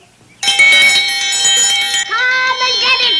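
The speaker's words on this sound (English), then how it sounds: "I always wanted to try one of these fiddle bells." A handbell clangs loudly and steadily as a dinner call on a rural homestead, its bright ringing tone starting abruptly and continuing unbroken, shifting pitch slightly partway through.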